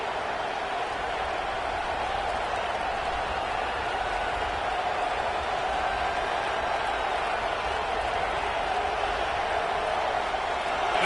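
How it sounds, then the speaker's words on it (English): A college football stadium crowd at an Alabama home game roars on third down, a dense, steady wall of cheering and noise that holds loud and unbroken throughout. "The Tide crowd rolling noise down onto Saban Field on third down."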